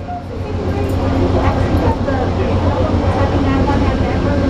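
A loud, low rumble of a train moving nearby, with rolling mechanical noise and squealing tones over a constant heavy drone.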